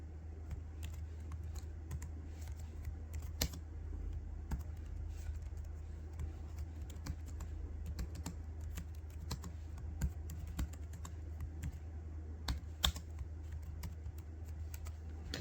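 Steady typing on a computer keyboard while writing HTML code, light quick key clicks in irregular bursts with a few louder strikes, close up over a low, constant background hum.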